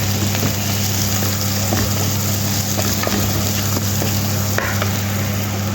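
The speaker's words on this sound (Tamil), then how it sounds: "அந்த பட்டை ஏலக்காய் கிராம்பு எல்லாத்தையும் போட்டுருவோம் ஜீரகமும் போட்டுருவோம் நல்லா வதங்கட்டும்" Whole spices such as cinnamon, cardamom and cloves, plus cumin, frying in oil in a pan for mutton biryani, making a loud continuous sizzle with small pops and crackles heard up close.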